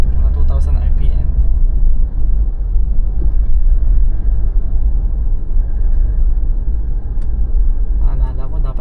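A Mitsubishi Montero Sport's engine holds a steady low rumble at around 2,000 RPM during a night drive in Baguio City, heard from inside the cabin, loud and continuous, with brief talk at the start and end.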